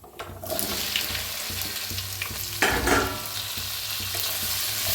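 Cut okra sizzles and hisses steadily in a hot pan seasoned with asafoetida and turmeric, with stirring scrapes and a louder burst of frying partway through, no voices.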